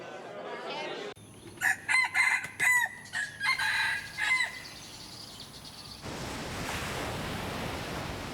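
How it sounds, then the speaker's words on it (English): A rooster crows in several loud, close calls over a few seconds, framed by quiet stretches and a wash of surf-like noise. "The rooster woke me up at 5 a.m."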